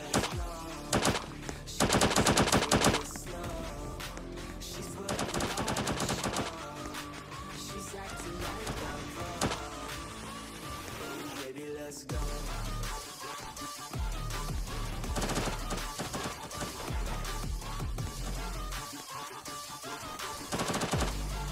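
Gunfire in the Roblox game Da Hood, rapid bursts of automatic shots and repeated single cracks over a bed of background music, loud and dense, recurring throughout.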